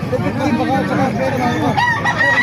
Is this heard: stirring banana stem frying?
no